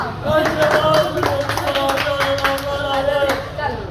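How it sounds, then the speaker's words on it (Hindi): A small group of people clapping in quick, uneven bursts, close by, with voices talking over the claps. "तालियां।"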